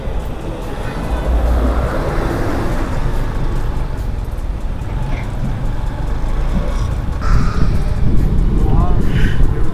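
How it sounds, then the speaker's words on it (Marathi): Busy traffic on a crowded market road at Chondi near Alibag, with a steady rumble of passing cars and engines close by and louder vehicles rising toward the end. "आता गर्दी भेटली आपल्याला गाड्यांची"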